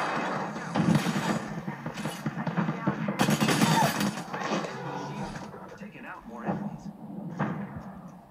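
Gunfire crackles through a shooter video game in short bursts and single shots, with mechanical clicks mixed in and someone talking over much of it.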